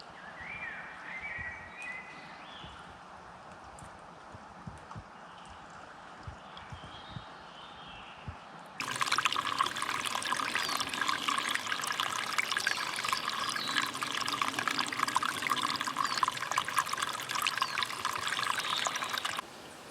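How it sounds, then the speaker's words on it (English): Running water from a mountain stream (a gill) in the Yorkshire Dales, a steady broadband rush and trickle, fainter at first and then suddenly louder and closer, continuous with no talk. "that sort of sound of running water, it's unbelievably calming"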